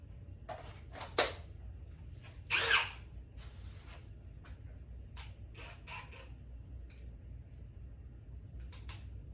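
A power drill whirs in several short bursts while drilling pocket screw holes, with one longer, louder run in the middle, over steady low background hum.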